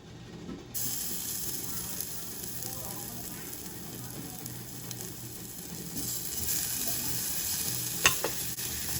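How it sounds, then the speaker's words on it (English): Garlic frying lightly in a small amount of oil for fresh spring rolls, a steady soft sizzle running throughout with occasional light scrapes and a brief sharp click near the end. "We're just gonna fry the garlic just lightly."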